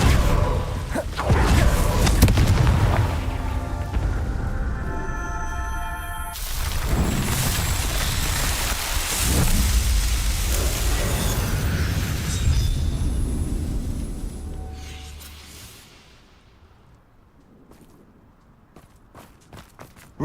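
A Confringo fire spell explodes in the Hogwarts Legacy video game, a loud burst of booming, whooshing blasts with thumps and debris that sustain for several seconds before fading to a quiet tail.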